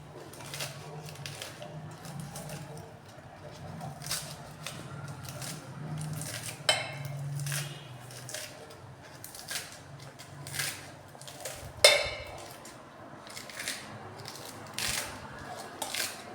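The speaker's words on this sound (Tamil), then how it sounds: "இதை இது மாதிரி கொஞ்சம் சின்னதாக கட் பண்ணி போட போகிறோம்" Scissors snip hibiscus leaves into small pieces, a string of quick, close cuts with a few sharper, louder snips over a quiet background.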